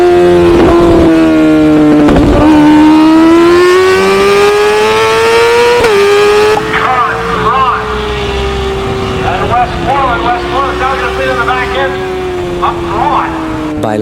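Vintage racing motorcycles scream past at speed on a race track, a loud sustained engine whine rising and falling in pitch through gear changes, close and continuous, with a voice speaking over it.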